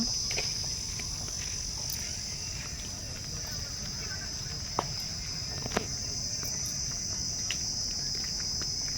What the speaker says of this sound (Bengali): আর ঝিঝি পোকার ডাক শুনতেই পাচ্ছ।